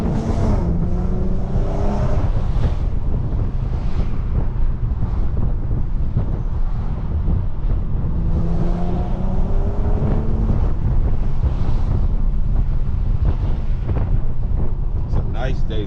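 An Infiniti G37 cruises along a back road near Sacramento with the windows down, heavy wind buffeting mixing with steady engine and road rumble as someone talks over it at times.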